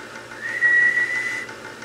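A single steady whistled tone into a microphone on a ham radio transmitter with a Pride KW-1 4CX250B linear amplifier, sustained for about a second over a faint hiss, fairly clean and close.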